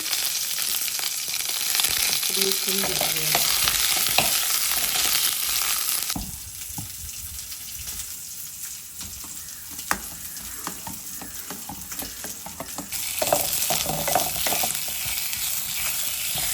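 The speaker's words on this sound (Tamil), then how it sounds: "காஞ்ச மிளகும் வெங்காயம்லாம் வதங்கிச்சு இப்போ தக்காளி போட்டுக்கலாம்" Tomatoes fry with dried chillies and onions in a pan, giving a loud, close, continuous sizzle with stirring scrapes; the hiss drops quieter for a stretch in the middle, then surges again.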